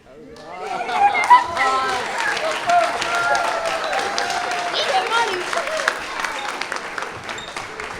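Applause for innovation award winners at a corporate R&D award ceremony, dense and steady clapping from a crowd for several seconds, with voices and chatter mixed in underneath.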